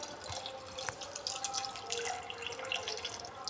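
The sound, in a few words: washing chopped vegetables under running tap water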